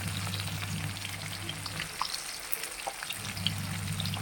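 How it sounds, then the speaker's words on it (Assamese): Pieces of chital fish sizzle and crackle steadily in hot oil in a wok, a close, continuous frying hiss with scattered pops and no voices. "এয়া মাছকেইডোখৰ মই কেৰাহীত ভাজি আছোঁ।"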